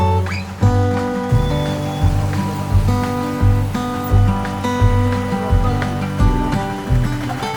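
Heavy rain pours during a motorcycle ride on the Gap Road in Munnar, a loud continuous hiss and wash with rhythmic low thumps running through it.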